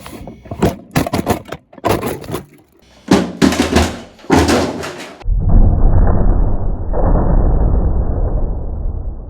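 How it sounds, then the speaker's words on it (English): A Henry Hoover PC, a computer built into a Henry vacuum cleaner, is thrown down a staircase, giving a run of loud thuds, bangs and clattering impacts, followed by a steady, heavy rumble that carries on to the end. "we're just going to throw him down the stairs and see if he turns on"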